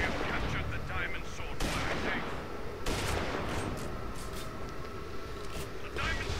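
Shotgun fire in Tribes: Ascend, dense broadband blasts and bursts of in-game combat noise running continuously, with sharp loud hits near 1.6 and 2.9 seconds over a busy mix.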